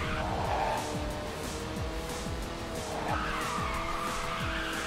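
A racing car in the video game Ridge Racer 6 drifts with sustained, wavering tire squeal over a revving engine that climbs and drops through repeated gear shifts, loud and continuous.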